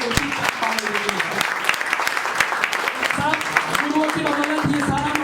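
Sustained crowd applause at a business meeting in Bawana, loud dense clapping with sharp individual claps standing out, a voice speaking over it throughout.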